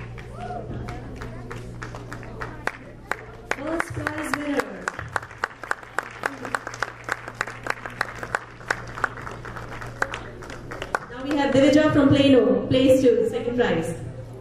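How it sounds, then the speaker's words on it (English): An audience at a prize-winner event claps in a steady patter of hands, building to a fuller burst of applause and cheering near the end, with a voice speaking over parts of it. "Huge round of applause."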